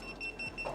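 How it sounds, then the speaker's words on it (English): A buzzer going off in a restaurant setting, giving faint repeating high-pitched beeps in a quick steady rhythm over low background room noise. "With my buzzer going off."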